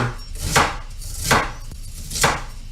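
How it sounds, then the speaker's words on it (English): A knife cuts through half an onion on a board, three distinct crisp chops spaced evenly about a second apart, close and clear with no talk. "Then we take the large half of the onion and cut it the same way I did the other."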